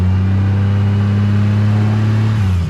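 A 2JZ-swapped turbo Chrysler 300 held at a steady raised idle, giving a loud, close, even engine drone that dips slightly near the end, with no talking.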